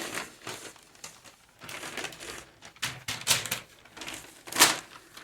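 A sheet of newspaper is opened out and folded crosswise, giving intermittent crinkling and crisp paper rustles with sharp creasing snaps between short pauses, close by and without speech.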